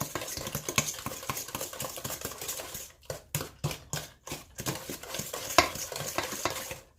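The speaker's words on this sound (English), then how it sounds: "we're just going to give this a good little whisk. All the eggs and the sugar" Eggs and sugar are whisked together in a bowl, the whisk clattering in fast, steady strokes that pause briefly midway before resuming, close and fairly loud.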